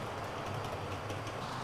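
Model train on a model railway rolling toward a helix, a steady low rumble with faint clicking from wheels on track, continuous and fairly quiet throughout.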